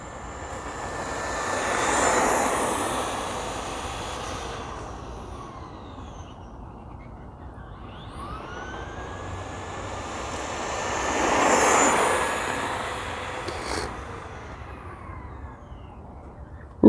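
A stock Traxxas Stampede 2WD RC car runs outdoors, its electric motor whining past twice with rising and falling pitch as it approaches and recedes, loudest on each close pass.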